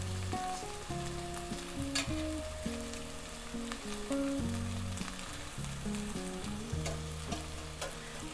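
Vegan bacon strips fry steadily in a pan, giving a continuous soft sizzle that sits under louder background music throughout.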